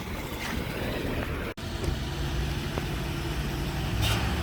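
A restored 1980s gas-powered Chevy tow truck idles nearby in Montreal, its engine giving a continuous rumble with a brief dropout midway and a slight swell near the end.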